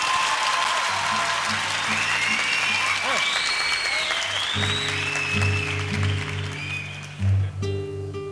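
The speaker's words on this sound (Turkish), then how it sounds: "Alkışlar mıyız onları?" Studio audience applause on a Turkish music talk show, a dense wash of clapping that fills the clip, with sustained musical tones starting beneath it partway through.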